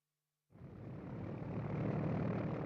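Propeller transport planes of the 1948–49 Berlin airlift flying, a steady broad engine drone that fades in after a short silence and holds loud and constant throughout, with no voices.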